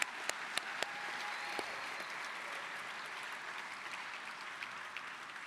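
A crowd keeps up sustained applause for a speaker, a continuous roar of many hands with a few sharper nearby claps standing out early on.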